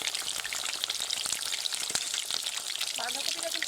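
Washed cabbage, still wet, crackling and spitting in hot oil, a loud, busy sizzle with sharp pops throughout and a brief stirring scrape near the end; no talking.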